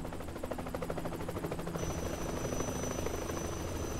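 Steady rotor chop of a helicopter in Yakuza 3, loud and continuous with a rhythmic beating pulse and a constant engine whine throughout, no voices.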